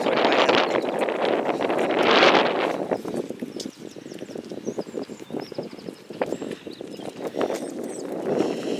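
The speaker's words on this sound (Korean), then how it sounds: "바람 소리 장난 아니에요?" Strong wind in London roars and buffets the microphone continuously, loud and close, with gusts swelling and easing and faint clattering underneath.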